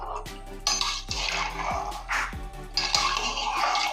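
A spoon stirs food in a pot with a few clanks and scrapes of metal against the pot, over sloshing liquid, with someone speaking nearby.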